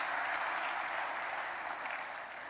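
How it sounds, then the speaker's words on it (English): Steady crowd applause for the chiefs at the opening ceremony of an annual bar conference in Bolga, a dense wash of clapping that fades slightly toward the end. "Let's give a round of applause for our fathers"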